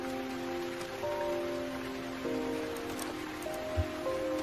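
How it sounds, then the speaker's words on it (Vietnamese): Rain falls in the Settlements Rising city-building game, a faint steady patter and hiss beneath soft sustained music tones, with one small thump near the end. "game gì mưa suốt ngày vậy"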